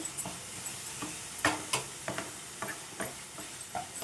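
Coconut laddu mixture stirred in a pan, a spoon scraping and knocking against the pan in scattered, uneven strokes under a faint steady hiss, close and quiet, no talking.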